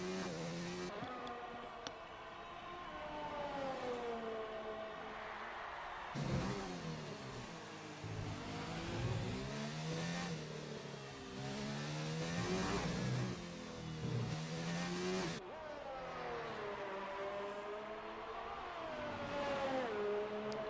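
McLaren race car lapping the Abu Dhabi circuit in an Xbox racing game, engine revving high and dropping through repeated gear shifts and braking, loud and continuous.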